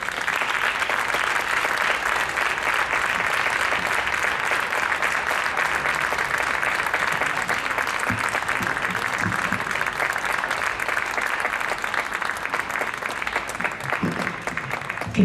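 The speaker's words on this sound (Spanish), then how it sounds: "Un aplauso para ellos" A crowd at an LGBT Pride gala in Leganés applauds the band, sustained dense clapping running evenly for about fifteen seconds, fairly loud, with faint crowd murmur mixed in.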